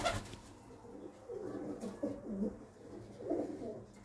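Pigeons cooing inside a coop, several soft low coos rising and falling close by in a few uneven bursts with no talking.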